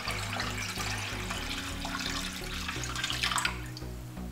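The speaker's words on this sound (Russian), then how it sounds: "Теперь отправляем в воду холодную." Lemonade concentrate poured into about two liters of cold water for Turkish lemonade, a steady, fairly faint splashing pour that runs continuously, with a low tonal hum underneath.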